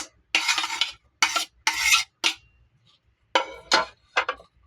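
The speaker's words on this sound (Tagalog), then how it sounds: "haluin lang po natin" Tomato and onion are stirred in a pan with a utensil, giving seven or so loud, close scraping strokes in separate bursts with short silent gaps.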